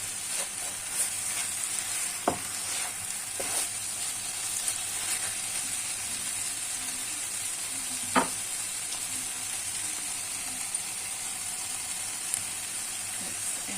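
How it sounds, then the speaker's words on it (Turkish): Wild greens sautéing in an open pan with a spoonful of liquid pepper paste, a constant bright sizzle with occasional sharp clicks of a utensil against the pan. "Ağzını açık pişirin ki otunuz böyle yemyeşil olsun"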